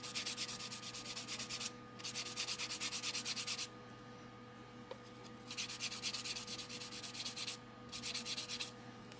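A 240 grit file rubs across an acrylic nail during a full set, giving a close, rhythmic scratchy rasp in four bursts of quick back-and-forth strokes with short quiet gaps between them.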